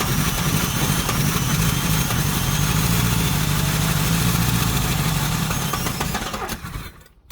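A 1968 Buick Wildcat 430 V8, with its choke still set, runs loud and steady at a rough idle up close, then sputters and dies as it runs out of gas near the end.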